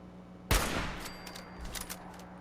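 In Fallout 4, one sharp, loud gunshot cracks out and is followed by a quick scatter of smaller shots and rattles that fade over about two seconds.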